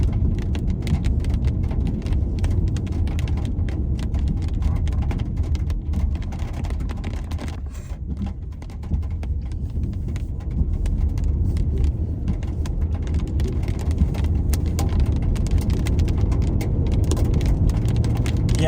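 Dense, rapid pattering of hail and rain drums on a car roof and windows, continuous and close, over a low rumbling background, on a scenic drive in New Zealand's South Island.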